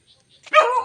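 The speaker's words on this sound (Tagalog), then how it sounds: "Ang aso." A dog barks once or twice close by in a rural yard, a short burst after near silence.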